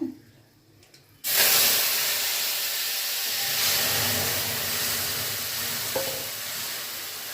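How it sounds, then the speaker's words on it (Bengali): Dal water poured into a hot spice tempering in a home kitchen sets off a sudden loud, sustained sizzle after a quiet start, hissing steadily with a brief sharp crackle near the end. "এর মধ্যেই আমি আগে দিয়ে দিচ্ছি অল্প করে ডালের জলটা"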